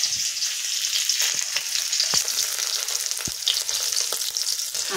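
Carrot, potato and bean bhaji fries in a pan, giving a steady, close hissing sizzle with occasional scrapes and taps of a spoon stirring, continuous and fairly loud with no talking.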